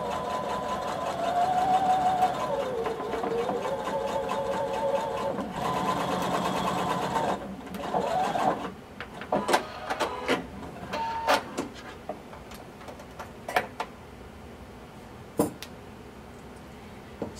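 A sewing machine hums through a long continuous run, sewing a 3/8 inch seam on blazer pieces with right sides facing, then stops and leaves sharp clicks and fabric handling behind.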